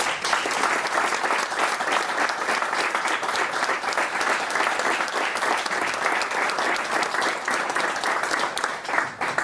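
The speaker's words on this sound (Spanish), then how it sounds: "Un fuerte aplauso para el autor." An audience at a book presentation gives the author a long, strong round of applause, dense even clapping that holds steady for the whole stretch with a faint crowd murmur.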